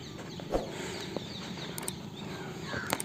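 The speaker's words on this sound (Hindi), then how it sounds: "तोते बहुत ज़्यादा आवाज़ आ रही है यहाँ से" Parrots call near their nest with a few short, sharp squawks that rise over a steady outdoor background hum, fairly faint and spaced apart, with no talking.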